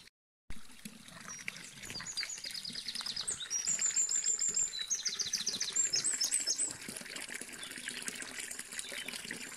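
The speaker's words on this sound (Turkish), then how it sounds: "Bu çeşmemizin şırıltısını ve kuş seslerini sizlere dinleteceğim." Birds singing beside a village fountain in Erfelek, Turkey, with bright chirps and trills over the steady trickle and splash of running water, close and continuous.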